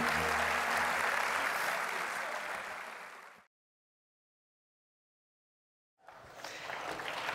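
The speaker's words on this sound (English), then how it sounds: "And a big round of applause for all of our champions, both seniors and juniors." An audience at a tennis champions gala applauds loudly in a dense wash of clapping, which cuts to silence midway and then resumes.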